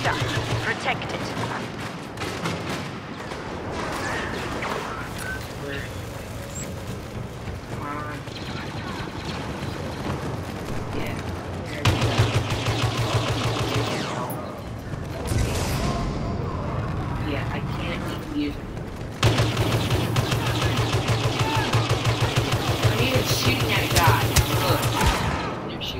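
Blaster gunfire and explosions from Star Wars Battlefront during a cargo-delivery match, bursts of shots layered over constant battle noise, with a player talking over the action.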